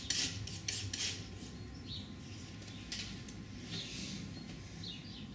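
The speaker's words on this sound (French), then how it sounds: "Je frotte toujours mon couteau très doucement" A painting knife rubs softly over canvas while applying oil paint for lavender flowers, producing faint, scratchy rasping strokes in short repeated bursts, quiet and close with no voice.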